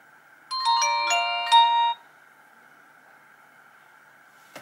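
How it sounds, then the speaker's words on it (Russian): A Nokia 220 mobile phone plays its startup sound, a short bright melodic chime of a few quick tones lasting about a second and a half, followed by quiet hum. "Закрываем заднюю крышку и включаем данный телефон."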